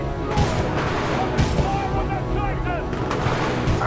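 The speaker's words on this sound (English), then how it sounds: "Visual contact reestablished with pilot. Commencing supporting fire." Supporting gunfire in Titanfall 2 rattles as dense, loud bursts of shots and booms layered over constant battle noise, with a synthetic game voice speaking through it.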